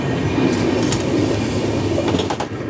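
Capital Express 13247, a sleeper train from Kamakhya to Siliguri, rolls steadily on its rails near Dudhnoi Junction, with a loud continuous rumble and rattle and faint clicks of wheels over joints, heard from inside a coach.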